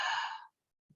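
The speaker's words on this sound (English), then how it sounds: "if you take a big deep breath" A big, deep diaphragmatic breath, a long loud exhale heard close up that fades out over about half a second, followed by a brief soft sound.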